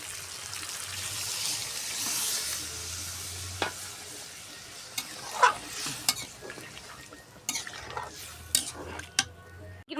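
Homestyle country chicken curry with potatoes simmers in a pan after broth goes in, giving a low bubbling sizzle broken by several sharp stirring clinks and scrapes, close and moderately loud, with no talking.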